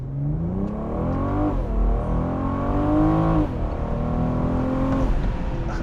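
A 2021 BMW M440i convertible accelerating hard in sport mode, engine note climbing in pitch through rising gear sweeps, dropping at each shift and climbing again, loud and close from inside the car.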